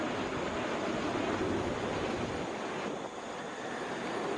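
A Southwest Boeing 737 arriving from Denver at Atlanta's airport, heard as a steady, broad roar of jet noise that holds at an even level throughout and dips slightly near the end, with no voices.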